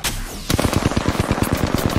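Rapid automatic gunfire from Apex Legends, a loud burst of about fifteen evenly spaced shots in quick succession after a short pause, close and dominant with no talk over it.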